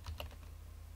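A couple of quick keyboard taps enter text into a Windows Store search, close and crisp over a low, steady electrical hum.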